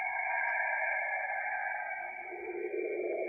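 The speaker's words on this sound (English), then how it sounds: "These are allegedly the sounds of Saturn." An eerie, steady electronic drone with layered tones and a slowly shifting lower sweep, heard alone; a purported space recording of the planet Saturn.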